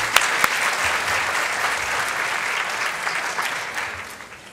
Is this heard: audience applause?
yes